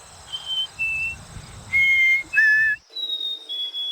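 A person whistles short, clear two-note calls, high then lower, imitating a chickadee, several times with brief pauses and faint rustling underneath.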